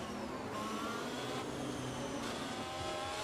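Formula 1 cars in the F1 2023 video game at the Monaco Grand Prix give a steady, faint, high engine whine as a pack of cars races together.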